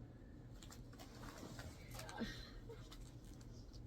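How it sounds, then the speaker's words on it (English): Faint bird calls and soft cooing drift in from outdoors, distant and intermittent over a steady low background hum. "Can you hear the birds?"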